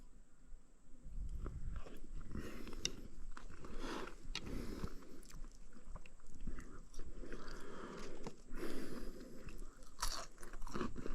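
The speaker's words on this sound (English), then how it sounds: "Bit of crunch on the chips too." Crunchy home-cooked fish and chips seasoned with salt and pepper being eaten outdoors on an island, with repeated close, loud crisp bites and chewing crunches in an irregular rhythm, no talking.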